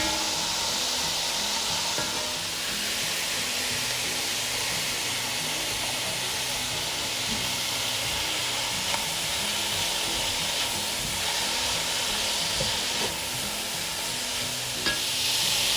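Spring onion and carrots sizzle in a pan with cabbage while yakisoba is stir-fried, a steady, dense hiss of frying that runs unbroken, with faint scrapes and clicks of stirring now and then.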